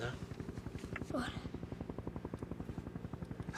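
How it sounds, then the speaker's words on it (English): Helicopter flying over an icy wilderness, a rapid steady rotor chop of even pulses throughout, fairly close, with a brief voice partway through. "Helicopter."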